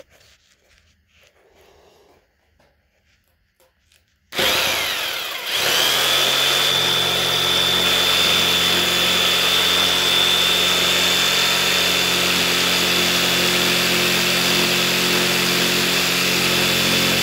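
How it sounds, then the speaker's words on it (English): A power jigsaw cuts through a rubber tire, part of building a feral cat shelter: after a few quiet seconds the saw starts abruptly and runs loud and steady, with a high whine above a buzzing reciprocating drone that continues to the end. "I'm gonna use my jigsaw."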